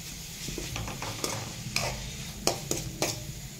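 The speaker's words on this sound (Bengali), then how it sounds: "তারপরে এটা ভালো করে নেড়ে নিতে হবে।" Vegetables and spices with chili powder and oregano are stirred in a hot pan, a continuous sizzle broken by a series of scraping, clattering strokes of the spoon against the pan.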